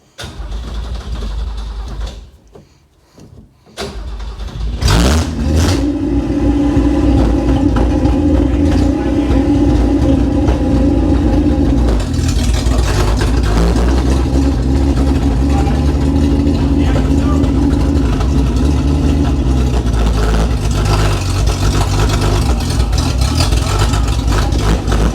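A Holden HT Ute engine cranks after a short pause, then catches and settles into a steady, loud, rumbling idle that continues to the end, heard close by.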